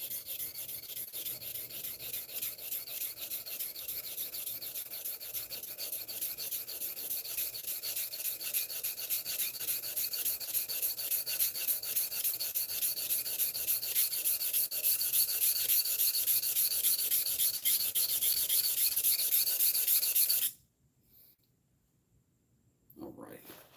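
A Stanley No. 4 plane blade is worked back and forth on a 1000-grit sharpening stone, giving a close, steady rasping scrape of rhythmic strokes for about twenty seconds before it stops abruptly and falls quiet.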